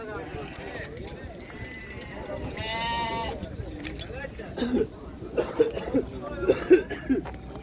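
Sheep and lambs bleat at a livestock market in Xaçmaz, with a clear bleat in the middle and other scattered animal noise. People talk nearby throughout, and there is some knocking toward the end.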